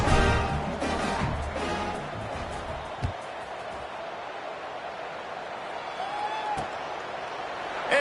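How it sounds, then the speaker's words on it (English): Stadium crowd at a football game buzzing after a touchdown: a steady, wide roar of many distant voices that is fullest in the first couple of seconds, then settles into a softer continuous murmur with a couple of brief knocks. "this crowd is buzzing after that last score"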